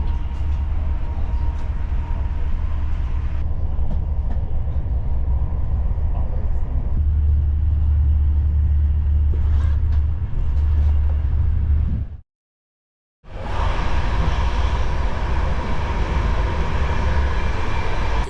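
PKP Intercity EuroCity train on the Berlin to Frankfurt Oder mainline, heard from on board as a steady low rumble of wheels and carriage noise, with a brief dropout and then louder running.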